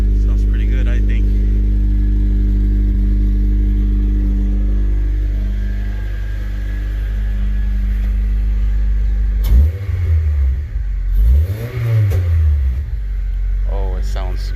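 A 2006 Honda Civic Si with a K20Z3 engine and a PLM header idles with a deep, steady rumble, then revs sharply twice in quick succession before settling back to idle. It is close and loud, with no clear speech.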